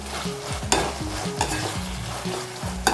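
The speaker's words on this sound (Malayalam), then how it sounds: "നന്നായി ഒന്ന് വഴറ്റിയെടുക്കാം" Curry with curry leaves is stirred in a hot pan, giving a steady sizzle and frying sound. Three sharp scrapes of the spoon against the pan fall at regular intervals. No one speaks.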